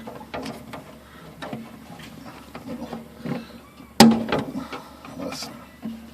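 A screwdriver pries and scrapes at the metal latch tabs of a Smith Corona Samsonite typewriter carrying case, with light rattles and one sharp metallic snap partway through, under occasional talking.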